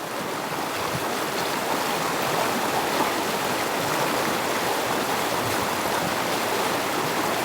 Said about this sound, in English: Enjoy the sound of the rain, the sound of the river